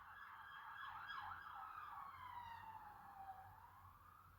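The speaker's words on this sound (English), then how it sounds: "Ambulance or police, I wonder." An emergency vehicle siren, ambulance or police, passes outside with a loud, continuous wailing sweep that rises and falls several times, then slowly drops in pitch and fades as it moves away.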